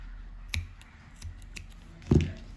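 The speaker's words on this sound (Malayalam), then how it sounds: "എന്നിട്ട് യാൺ കട്ട് ചെയ്ത് കൊടുക്കാം." Scissors snip through crochet yarn in a couple of sharp, close cuts, the last one loudest, in a quiet room with no talking.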